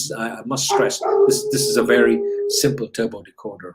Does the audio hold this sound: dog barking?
yes